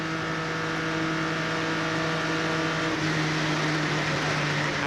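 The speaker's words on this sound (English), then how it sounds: "when we hear him back off the throttle" A race car engine at Daytona drones loud and steady in harmonic tones, then its pitch dips as the driver backs off the throttle about three seconds in.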